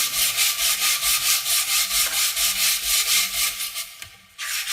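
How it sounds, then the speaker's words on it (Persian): Fine sandpaper rubbing along the wooden neck of a tar, a steady rhythmic back-and-forth rasp with even strokes, close and fairly loud, ending in a brief pause. "دسته رو سنباده بزنیم"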